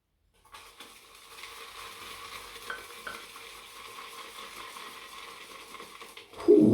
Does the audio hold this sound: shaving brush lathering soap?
yes